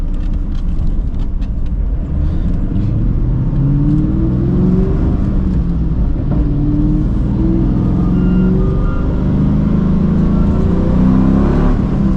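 A rare NewEdge Ford Mustang's engine revs hard as it accelerates, a loud, continuous roar with the pitch climbing and then easing, heard from inside the car with no talking.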